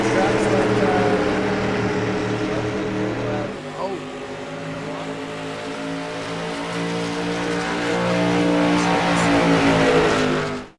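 Race cars from a street stock series circle New Hampshire Motor Speedway in practice, a steady engine drone with sustained harmonic whine that dips briefly then builds louder as a car passes near, with commentary voices running underneath.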